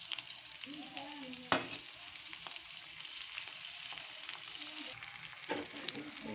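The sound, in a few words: frying ginger-garlic paste and chillies, stirring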